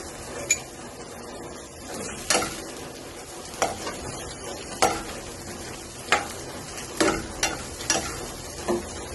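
Cabbage, carrot and green chili with salt sizzle in a pan while a utensil stirs and scrapes, giving sharp metallic clinks every second or so over a steady frying hiss.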